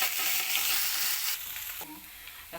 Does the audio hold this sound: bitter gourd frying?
yes